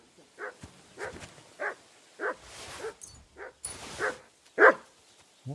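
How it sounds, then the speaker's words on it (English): A dog in the medieval Bohemian setting of Kingdom Come: Deliverance 2 barks repeatedly at a steady rhythm, about a dozen moderate, slightly distant barks alone, with brief rustling noises between them. "What are you barking at, you crazy dog?"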